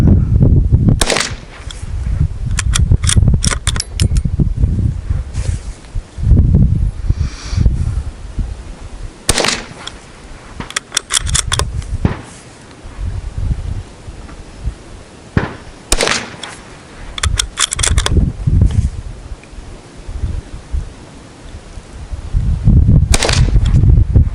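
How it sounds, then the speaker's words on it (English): Five gunshots are fired at a bullseye target, sharp loud cracks spaced a few seconds apart, each with a short rumbling tail. "let's see if we can put 5 rounds in the bullseye."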